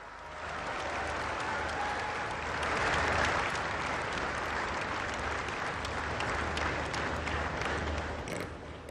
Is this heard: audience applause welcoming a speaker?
yes